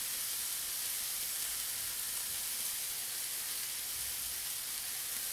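Diced onion cubes briefly frying in a hot pan, giving a steady, even sizzle that holds at the same level throughout with no voices over it.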